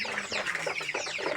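Young tiger chickens, multicoloured birds around 400 to 500 grams at about 25 days old, cluck and peep busily in a nearby group, with overlapping short calls and a steady background murmur.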